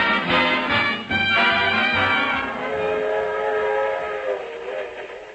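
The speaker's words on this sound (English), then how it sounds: "A suburban railroad station." A train at a suburban railroad station sounds a loud, sustained whistle close by, layered tones holding steady before slowly fading, as an old-time radio sound effect.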